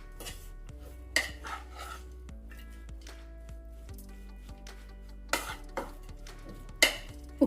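Chopped raw mango being stirred with garlic and green chillies in a metal bowl, a spoon clinking and scraping against the sides in scattered knocks with soft squishy mixing between them.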